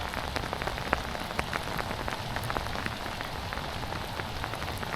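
Heavy rain pours steadily on water and surfaces at a dam, a dense constant hiss with scattered louder drops, close and unbroken.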